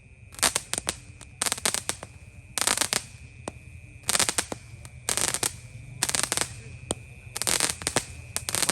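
Mini Roman candle fireworks (mercon) set off at night during Ramadan, popping in repeated rapid bursts of sharp cracks separated by short pauses, close and loud over a low background rumble.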